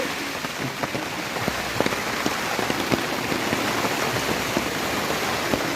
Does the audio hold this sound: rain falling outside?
yes